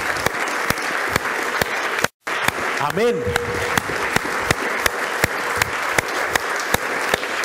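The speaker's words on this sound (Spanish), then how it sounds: "Dele un fuerte aplauso al Rey" A church congregation claps in applause during a worship service: dense, steady clapping with sharp individual claps that cuts out for a moment, then resumes while a voice speaks briefly.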